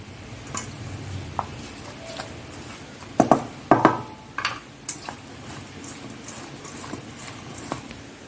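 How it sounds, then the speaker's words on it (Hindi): Chicken kebab ingredients, with black pepper powder among them, being mixed together by hand or spoon in a bowl, giving soft scattered taps, scrapes and clinks at close range. "अब सब चीज़ों को अच्छे से मिला देंगे।"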